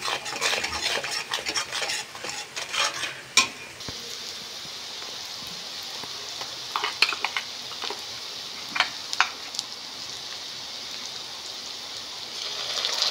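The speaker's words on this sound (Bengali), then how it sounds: "পরিমাণ মতন হলুদ, দিয়ে ভালো করে পেঁয়াজটাকে ভাজবো।" Sliced onion fries with turmeric in a pan, a steady soft sizzle running throughout, broken by scraping and clinking stirs from a spoon against the metal, fairly close and moderately quiet.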